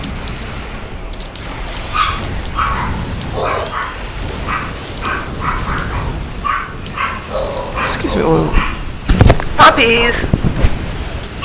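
Dogs barking and yipping, with some whimpers, in repeated short bursts under a person talking nearby.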